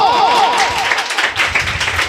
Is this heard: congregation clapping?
yes